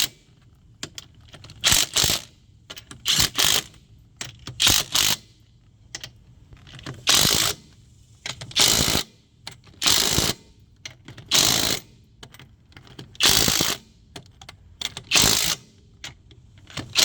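A ratchet tightens the lug nuts on a fourth-generation Camaro wheel in repeated bursts of quick, close clicking separated by short pauses, with no talk over it.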